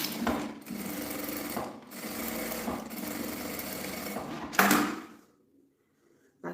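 A sewing machine stitches a seam across lining fabric for a small zippered pouch, running in a steady, close mechanical whir with short breaks before stopping abruptly into near silence.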